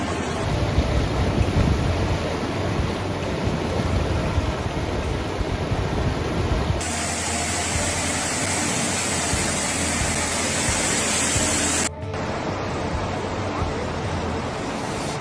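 Rushing floodwaters from an overflowing river during a super typhoon flood in China, with cars floating in the current, roar as a steady, loud broadband wash mixed with wind noise throughout, with no voices.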